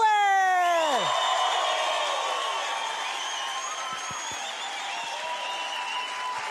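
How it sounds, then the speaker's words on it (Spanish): A TV-show studio audience greets a guest with loud applause, whistles and shouts. A sliding whistle or shout opens the sound, then a sustained wash of clapping and cheering continues with a few sharp knocks. "Recibamos con un fuerte aplauso, chiflas, gritos y madrazos al Masgüe."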